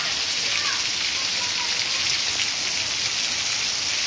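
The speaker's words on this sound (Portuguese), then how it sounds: "Olha que chuva boa." Heavy rain at night in Amaniutuba, Ceará, drums constantly on nearby surfaces, a thick, uniform roar of falling water with scattered drop splashes.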